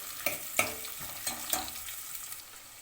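Shallots and crushed garlic frying in a pan for a Tamil fish curry, with a utensil stirring in several sharp scrapes and clicks over a steady close sizzle.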